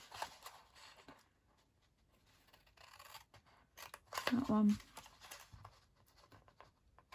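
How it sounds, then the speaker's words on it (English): Scissors cut along the sides of the score lines on a folded paper gift bag, giving soft, intermittent snips and paper rustles, with one louder burst of handling near the middle. "You don't want to cut those middle score lines, you just want to cut up the side of the rectangles."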